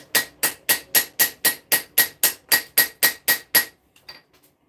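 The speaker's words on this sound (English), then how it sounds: "Maybe it'll straighten if I hammer this side." A hammer strikes a Japanese Santoku kitchen knife blade to straighten it, about a dozen sharp metallic blows in a steady, even rhythm, close and alone, ending with a few faint taps.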